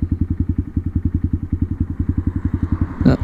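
A motorcycle engine idles close by with a steady, rhythmic low putter of even pulses throughout, ending in a brief louder clatter.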